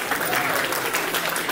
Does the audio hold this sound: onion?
no